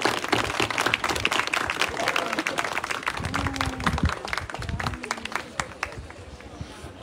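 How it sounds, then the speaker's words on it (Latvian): A crowd claps and applauds at an outdoor heritage day event at a border point, a dense burst of hand claps that thins and fades toward the end, with some voices mixed in. "Aplausi sev!"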